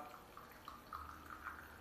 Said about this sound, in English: Adding hot water to the cup.